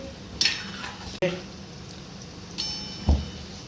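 Shankarpali dough pieces being stirred in a pan over a low gas flame: a few sparse, quiet scrapes and light utensil clinks spaced apart against a soft, hushed background.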